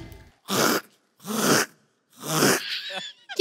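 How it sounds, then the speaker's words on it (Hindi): A man clears his throat in three forceful, separate bursts, close and loud with short pauses between them, in a comedy sketch set around a car. "मैं गला साफ कर रहा हूँ"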